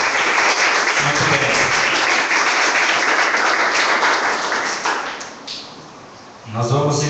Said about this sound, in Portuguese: Uma salva de palmas aqui para o nosso Senhor.